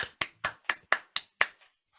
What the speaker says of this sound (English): Give everyone a big round of applause.